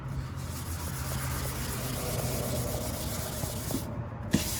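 A 320-grit scuff pad rubs steadily across shiny car paint, a continuous close abrasive scrubbing that holds even throughout and ends with a brief knock.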